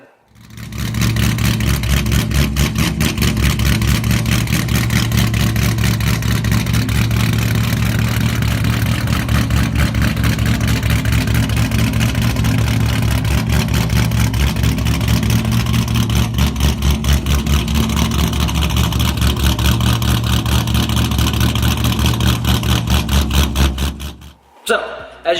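A 1998 C5 Corvette with long tube headers, an off-road X-pipe and boreless straight pipes runs loud and close for about twenty-five seconds, a deep steady engine drone with a throbbing rumble before cutting off.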